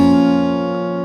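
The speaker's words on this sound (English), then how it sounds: "you play the chord with one downstroke like this" A guitar chord from a fingerstyle Witcher song lesson, struck once with a single downstroke and left ringing, sounding close and steady and fading gently with no voices.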